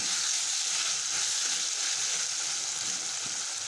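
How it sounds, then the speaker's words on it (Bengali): Pointed gourd fries in a pan with a loud, continuous crackling sizzle that holds steady and close throughout, with no voices over it. "এখন লাল লাল করে ভাজা ভাজা করে নিচ্ছি।"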